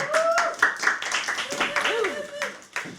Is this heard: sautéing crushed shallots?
no